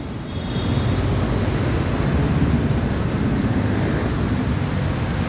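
Gusty wind blows steadily across an outdoor spot near an MRT line toward EDSA, a broad rushing roar buffeting the microphone, building in the first second and then holding loud and even with no voices.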